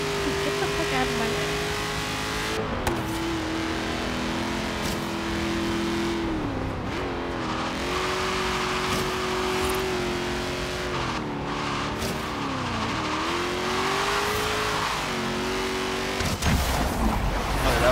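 Race car engine in Forza Horizon's Hot Wheels expansion, droning loudly and steadily with pitch dips and climbs as it shifts and brakes, with tire skids near the end.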